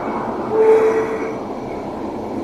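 A train rumbles close by at the Maeklong railway market in Thailand, its steady roar swelling briefly with a faint horn-like tone, and no voices over it.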